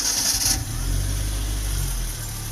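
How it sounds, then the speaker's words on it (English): A micro van's 1100cc Dongan fuel-injected engine cranks briefly with a whir, then catches and settles into a steady, close idle. "Let's start up this 1100cc Dongan engine."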